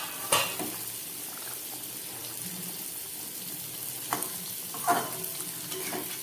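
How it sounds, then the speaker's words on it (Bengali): A pot of Bengali fish curry made with rui and amudi fish simmers after the lid comes off, giving a steady low hiss of bubbling with a few sharp clinks and louder sizzling bursts. "মাছের ঝোলটা আমার ফুটে উঠেছে"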